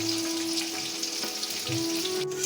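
Chopped onion fries in hot oil with dried red chili, curry leaves, garlic and ginger, giving a steady soft sizzle for a short moment, with no talking over it.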